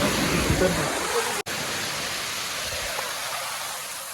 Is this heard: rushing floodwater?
yes